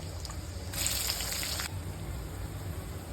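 Onion dropped into hot oil already holding browned garlic and curry leaves, a steady close sizzle that swells louder for about a second before settling back to a gentle fry.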